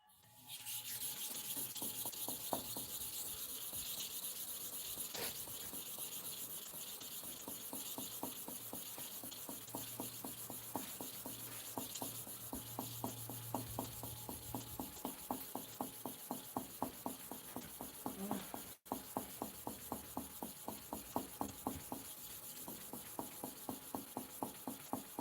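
A barber's clipper blade is rubbed back and forth on a sharpening surface in quick, regular rasping strokes. The strokes are close but quiet and run continuously with one brief pause.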